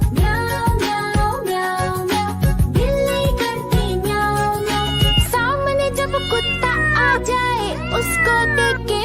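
In a Hindi children's rhyme, a sung voice imitates a cat's meowing over bright music, with a steady run of drawn-out meow-like calls.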